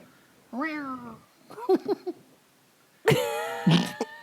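A person's drawn-out, strained vocal burst sounds like a cough, followed by brief choppy sounds and then another loud, harsh cough-like outburst, close to the microphone.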